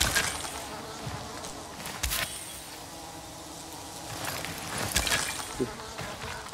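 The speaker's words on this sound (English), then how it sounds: "I'm so glad that the bees don't try to attack us." Bees buzzing in the video game Dying Light 2, a faint continuous insect drone with a few louder whooshing bursts.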